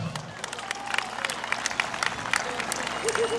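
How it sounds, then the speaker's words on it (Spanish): An audience at a lively balloon contest applauds a participating couple, with scattered sharp hand claps over a busy, noisy room where voices and movement can also be heard. "El aplauso para la pareja de Joana."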